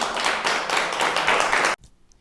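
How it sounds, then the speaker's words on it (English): An audience at a children's poetry show claps steadily in a dense burst for about two seconds, then it stops abruptly and the room falls nearly silent. "Let's all clap for him."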